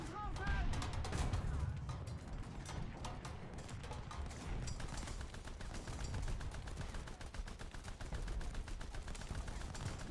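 Rapid machine gun bursts from a World War One aircraft in War Thunder rattle repeatedly, fairly quiet, interleaved with engine drone and a voice talking over the firing.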